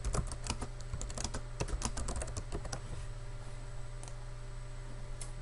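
Typing on a computer keyboard: a quick run of close, crisp key clicks that slows and then stops, leaving a faint steady hum in a quiet room.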